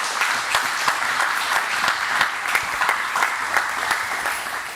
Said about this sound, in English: Let's give them a round of applause for what they're doing